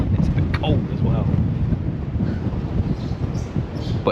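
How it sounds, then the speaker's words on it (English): Steady wind buffets the microphone on the open deck of a DFDS mini cruise ferry bound for Amsterdam, a continuous rough rumble with someone talking over it. "It's a little bit windy."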